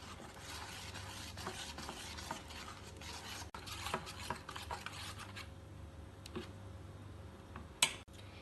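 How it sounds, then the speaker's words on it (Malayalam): Ground rice batter is stirred in a bowl for a Kerala pappada vada snack, giving a soft, quiet, continuous scraping and sloshing with a few faint clicks and one brief sharp knock near the end. "ഇതൊന്ന് ഇളക്കി കൊടുക്കാം."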